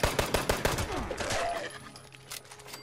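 Gunfire against enemies at a factory workshop in Fallout 76: a quick burst of several loud, close shots in steady rhythm, then a sustained blast and fading tail, with game ambience behind.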